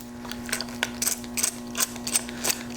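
A ratchet wrench backing out two 3/8 bolts on a Homelite weed eater carburetor, quick close clicking bursts in a steady rhythm over a faint hum.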